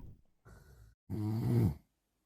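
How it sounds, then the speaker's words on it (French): A couple of soft, throaty snores from a person recorded during sleep, the second longer and louder, separated by brief silence. "Petit ronflement."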